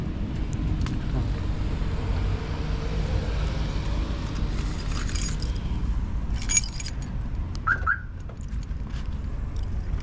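Keys jangling close by inside a car, a few light metallic rattles and chimes over a steady low engine and road rumble, no talk.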